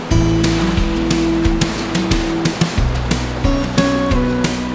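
Waves wash onto a Gulf Coast beach at sunrise in a loud, continuous rush of surf, with a low engine-like hum running underneath.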